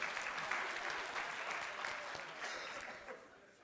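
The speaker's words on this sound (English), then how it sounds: "Brian's applauding" Audience applause during a talk by psychologist Alfie Kohn, a continuous dense patter of many hands clapping that slowly tapers toward the end.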